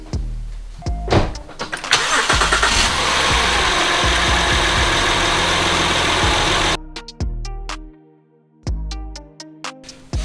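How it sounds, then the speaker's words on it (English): A car engine left idling while an engine flush cleans out old oil: it catches and settles into a steady, loud running hum for several seconds, then cuts off abruptly, leaving scattered ticks and clicks. "I'm gonna start the car and idle for 10 minutes"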